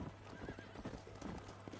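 A horse in the Western video game Red Dead Redemption clip-clops along with rapid hoofbeats and a neigh, faint and brief, blended with game sound.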